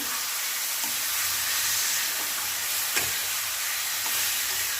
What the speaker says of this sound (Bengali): টমেটো পিউরি দিয়ে ভালো করে কষাবো।